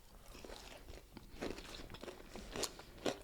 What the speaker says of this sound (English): I'm sorry, we're like chewing in the mic.